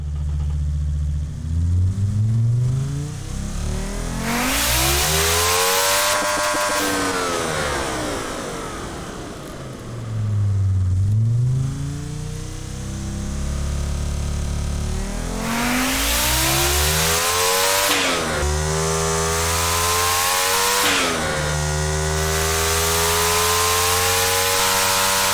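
A custom car engine in a simulated driving game revs hard repeatedly, rising and falling in long sweeping pitch arcs, holding at high revs between lulls, with loud buzzing harmonics and a lagging build as turbo boost arrives.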